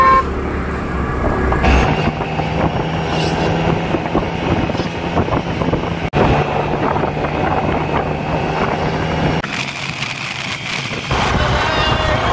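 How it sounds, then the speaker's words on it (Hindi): Heavy weekend road traffic with many two-wheelers rumbles steadily and close, with a horn toot and wind buffeting the microphone, and a voice talks over it now and then. "देखो गाइस कैसा ट्रैफिक लगा है, सैटरडे संडे यहाँ पे ऐसे ही रहता है"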